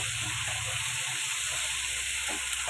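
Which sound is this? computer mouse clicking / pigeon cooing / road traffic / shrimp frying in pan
shrimp frying in pan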